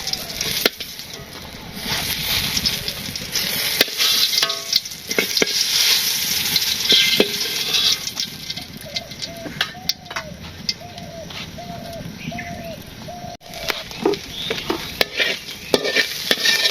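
Prawns frying in a pan in a village kitchen, a loud continuous sizzle with frequent scraping stir strokes throughout, close up, with faint animal bleats in the background.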